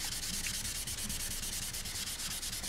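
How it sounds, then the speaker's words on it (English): Sandpaper rubs by hand over motorcycle clearcoat during wet sanding, a close, loud, steady back-and-forth scrubbing with a quick regular rhythm and no talk. "when you sand like that, or you sand with 3 or 4 fingers,"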